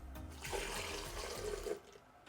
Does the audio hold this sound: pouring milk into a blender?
yes